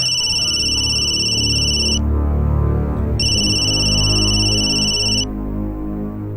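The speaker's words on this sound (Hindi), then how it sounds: "देखो किसका फोन है।" A two-tone electronic ringtone chirps in two long bursts with a short gap, loud and close over a low background hum.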